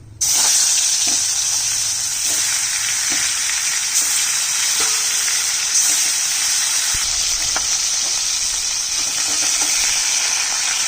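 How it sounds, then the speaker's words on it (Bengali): Fish fries in hot oil that was first used to fry potatoes and tempered with cumin, bay leaf and dried chilli, a loud, steady close sizzle with occasional soft stirring knocks. "এই তেলের মধ্যে মাছ দিয়ে দিচ্ছি।"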